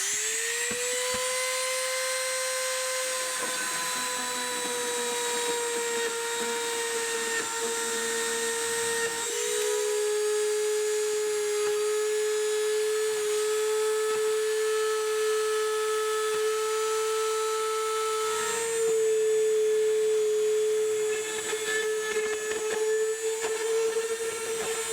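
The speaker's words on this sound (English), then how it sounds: "Just going to drill out these holes." A power drill whines steadily while holes are bored out of an IP65 electrical box. The high, sustained motor tone shifts pitch a few times as the bit loads up, and it runs on continuously at close range.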